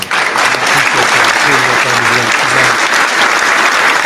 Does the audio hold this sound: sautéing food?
no